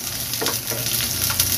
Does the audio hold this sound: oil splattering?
yes